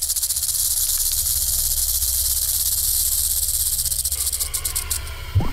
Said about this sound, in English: The older the rattlesnake gets, the longer its rattle.